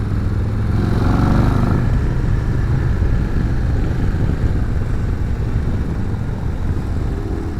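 A 2026 Harley-Davidson CVO Road Glide ST being ridden on an open road, its engine a loud, steady low rumble mixed with wind rush, heard continuously and close with no speech.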